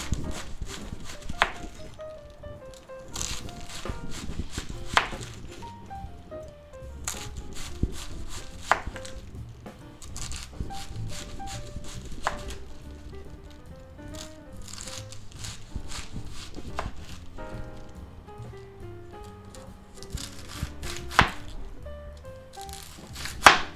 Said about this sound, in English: we're going to go ahead and slice this up.